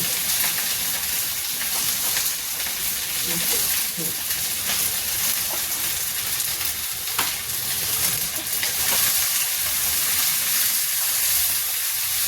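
Ghee sizzles in a kadai with mustard oil while kundru (ivy gourd) cooks into a curry. A steady, bright frying hiss runs unbroken for twelve seconds, close and fairly loud, with faint stirring underneath.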